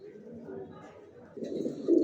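A racing pigeon cooing close by: soft low throaty coos in short bursts, rising toward the end, with faint background noise.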